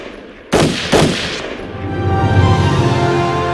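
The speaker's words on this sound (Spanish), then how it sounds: "sonaron los disparos dentro de Nanchang." Two sharp, loud gunshots ring out close together, signalling the start of the Nanchang uprising, followed by a lingering rumbling tail with no voices.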